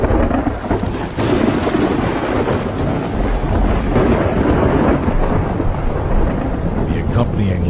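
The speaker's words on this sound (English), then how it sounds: "At any given moment, hundreds of storms are occurring somewhere around the world." Severe thunderstorm with loud, continuous rain and deep rolling thunder filling the whole stretch, steady and close with no pauses.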